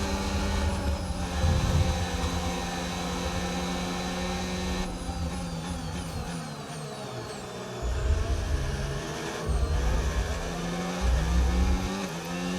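Formula 1 car engines in F1 25 at the Japanese Grand Prix roar continuously as a Ferrari overtakes, with dense, loud engine noise and rising and falling revs throughout.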